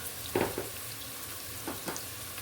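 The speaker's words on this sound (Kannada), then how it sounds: "ಈರುಳ್ಳಿ ಸ್ವಲ್ಪ ಗೋಲ್ಡನ್ ಬ್ರೌನ್ ಕಲರ್ ಬರೋ ತನಕ ಫ್ರೈ ಮಾಡ್ಕೊಳ್ಳಿ." Onions sizzle in a pan as they fry toward golden brown, a soft continuous crackle with a few brief louder stirring scrapes and spatters close by, no voices.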